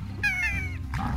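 A cat-like tabby slime creature in Slime Rancher gives a loud, drawn-out meow up close, followed by a shorter second call.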